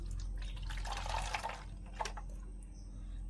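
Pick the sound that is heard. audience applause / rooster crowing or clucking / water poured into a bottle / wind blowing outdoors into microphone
water poured into a bottle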